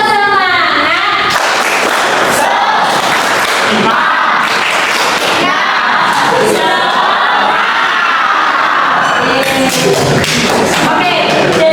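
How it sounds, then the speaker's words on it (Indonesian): A school class does a rhythmic spirit clap chant before a geometry lesson, with loud group shouting and chanting mixed with thumping claps in patterned bursts, close and energetic throughout. "kita tepuk semangat dulu ya. Tepuk semangat."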